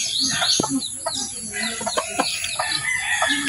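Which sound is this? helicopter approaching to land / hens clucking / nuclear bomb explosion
hens clucking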